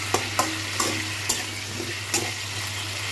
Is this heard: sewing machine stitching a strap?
no